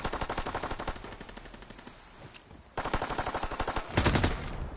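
Rapid automatic gunfire in Call of Duty World War II, loud and close, with steady rattling bursts, a brief pause, then more firing and a heavier blast near the end.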